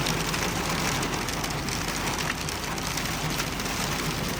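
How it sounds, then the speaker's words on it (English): Heavy rain from a severe hailstorm and thunderstorm, drumming steadily and loudly on a truck without letup, a dense constant wash with no talk. "we're gonna go through a hailstorm, severe thunderstorm 2 days before Christmas"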